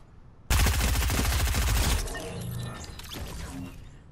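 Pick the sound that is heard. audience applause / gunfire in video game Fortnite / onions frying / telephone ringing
gunfire in video game Fortnite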